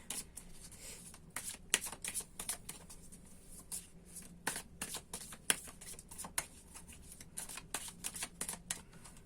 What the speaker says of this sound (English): So let's keep on shuffling and see what else we can find out.